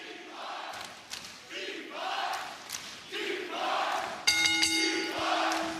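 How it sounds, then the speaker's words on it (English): A live wrestling crowd at an AEW Collision event roars and cheers in rising waves, with a bright tonal ring from a bell or music sting cutting in near the end. "They're cheering"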